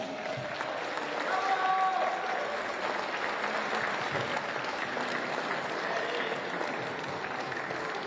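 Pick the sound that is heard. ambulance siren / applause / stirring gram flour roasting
applause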